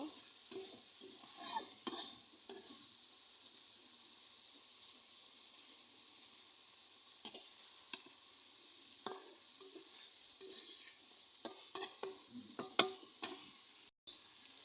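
Fried fish pieces in spiced masala being turned over in a pan, a faint steady sizzle with scattered scraping and clinking of the spatula, close but quiet, no voices.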